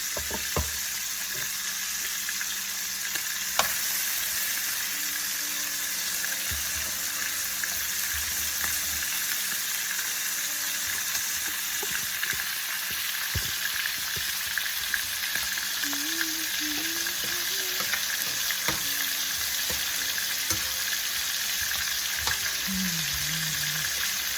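A pork chop fries in a pan on high heat, giving a steady loud sizzle that runs throughout with a few faint clinks and brief background sounds.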